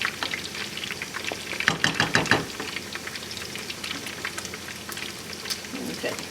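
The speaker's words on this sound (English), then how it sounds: "So I've just added some pieces of the fried meat here. I will stir it around" Fried chicken pieces being stirred into tomato stew in a pot, giving a soft bubbling sizzle with a short cluster of louder stirring clatters near the middle, steady and close.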